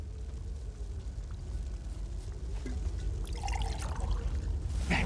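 Sacred water is poured onto an altar in the video game Elder Scrolls Online, a soft liquid pour and trickle over a low ambient rumble, joined near the end by brief magical shimmering tones.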